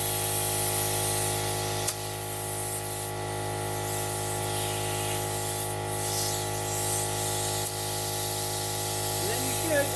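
Compressed air hisses steadily into a tire seated on its rim during a tire change, a continuous loud spray-like rush lasting throughout with a steady drone beneath it.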